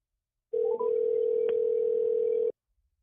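A steady telephone line tone after the other party hangs up on a call. It sounds as one loud, unbroken two-second tone with brief clicks at its start, alone in the clip and with no talk.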